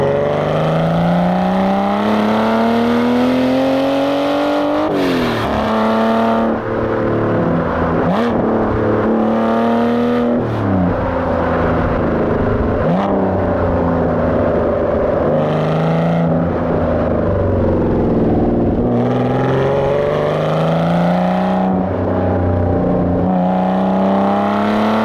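Aston Martin Vanquish engine pulling hard as it accelerates on a clear open road, a loud sustained engine note rising in pitch through each gear with brief dips at the shifts, heard steadily throughout with no talk.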